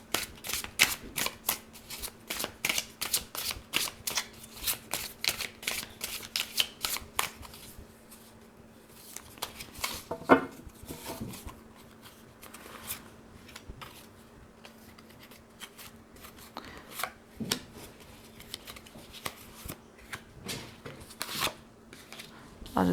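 Tarot cards from a 1001 Arabian Nights deck are shuffled in a steady run of crisp, riffling flicks, busy at first and then sparser, close and clear, with a faint hum underneath.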